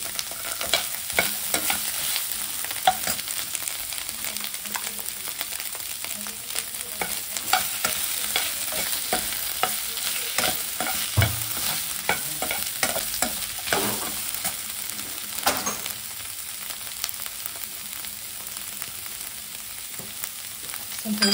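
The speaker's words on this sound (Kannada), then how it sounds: "ಶುಂಠಿ ಬೆಳ್ಳುಳ್ಳಿ ಪೇಸ್ಟ್ ಇದೆಯಲ್ಲ, ಅದು ಸ್ವಲ್ಪ ಹಾಕ್ತಾಯಿದ್ದೀನಿ." Ginger garlic paste fries in a pan for boiled egg bhurji, a constant crackling sizzle with repeated scraping stirs from a spoon, close and moderately loud throughout, with no talking.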